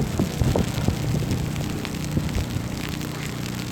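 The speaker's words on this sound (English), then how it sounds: "More of a sleet hitting your face, which is more the annoying part." Sleet falls on a New York City street corner during a March blizzard, a close, continuous hissing patter with scattered ticks and taps over a low outdoor rumble, with no one speaking.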